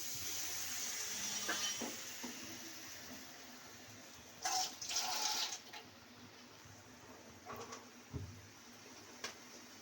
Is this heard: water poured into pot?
yes